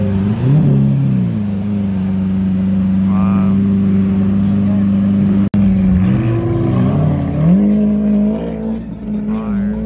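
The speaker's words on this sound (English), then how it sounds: "The homie pulled up. Sick ass Aventador." A Lamborghini Aventador pulls up nearby at a car cruise, its engine droning loudly in a steady low idle, then a brief blip and a few rising revs as it moves in, with no talk over it.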